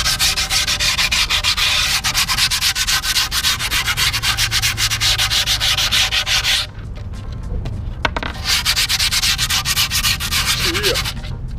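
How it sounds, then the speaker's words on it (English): Steady, loud sanding of skateboard grip tape across the deck, a continuous abrasive rubbing that runs throughout with a brief pause partway, no talking. "And then I sand it after."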